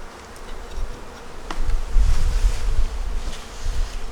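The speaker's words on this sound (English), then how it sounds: "These are the bees." Honey bees in a winter hive buzz close by in a steady, swelling hum, several insects droning together.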